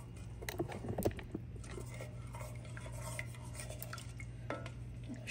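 Apple cranberry sauce is stirred in a pot, a quiet close scraping and sloshing of a spoon with a few brief knocks against the pot early on, over a low steady hum.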